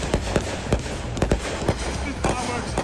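Sharp booming pops of fireworks burst at irregular intervals, several in under three seconds, mixed with excited voices and cheering nearby.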